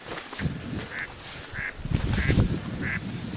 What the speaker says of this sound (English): I think I've annoyed the ducks.